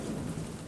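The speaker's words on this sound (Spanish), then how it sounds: "¿Veis eso que se escucha? Es que está lloviendo." Dense, steady rain roar with low rumbling in the F1 2015 racing video game at the Austrian Grand Prix, Spielberg, continuous and loud with no talk.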